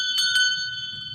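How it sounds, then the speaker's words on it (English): A standard horse bell rings with a bright, sustained metallic tone, struck twice in quick succession and left to sustain, loud and close. "And then we have 1, 2, 3, 4 standard bells,"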